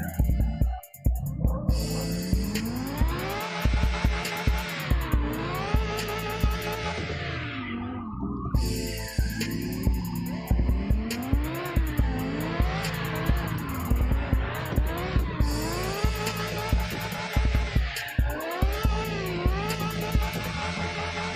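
A car drifting in the racing game CarX Drift Online, with the engine revving up and down in repeated sweeps and tires squealing as it slides, loud and continuous with brief gear-shift dips.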